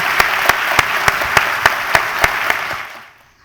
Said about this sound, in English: give another round of applause for President Levin, Carolina Giannicelli.